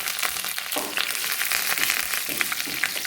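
Curry leaves drop into hot oil with browned onions for a fish curry, giving a loud, steady crackling sizzle throughout with small pops and stirring scrapes.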